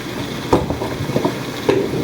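Biryani cooking in a pot late at night, with a few scraping stirs over a steady low sizzle, close and fairly quiet, with no talking.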